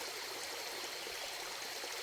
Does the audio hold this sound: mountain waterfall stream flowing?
yes